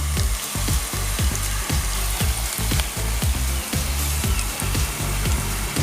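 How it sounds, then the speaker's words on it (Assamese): Onions browned in a pan with garlic paste and mixed masala powder sizzle loudly and continuously, with rhythmic stirring knocks against the pan throughout and no talk, cooking for an onion-only chicken curry. "এয়া দেখিছে পিঁয়াজখিনি ৰঙচুৱা হৈছে, আৰু মই ইয়াতে নহৰু পেষ্ট দি দিলোঁ।"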